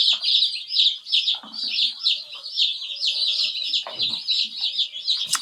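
A flock of about a hundred new chicks and poultry birds on a homestead peep and cluck constantly, a dense high chirping chorus close by with occasional lower clucks and brief background voice.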